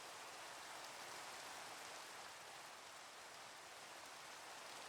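Steady, dense rain hiss from Minecraft weather fills the scene evenly and continuously, an unbroken wash of falling raindrops with no talk over it.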